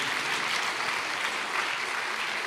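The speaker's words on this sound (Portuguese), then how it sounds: "Pode aplaudir o Senhor." Steady, dense applause from a large church congregation, sustained throughout with no pauses.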